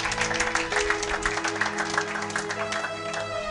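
A church congregation claps and cheers in steady, dense applause at close range, with singing or voices over the clapping throughout.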